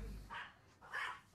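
A small dog barks at a barber shop in Japan, giving two short yapping bursts about half a second apart, moderately near, with no talking.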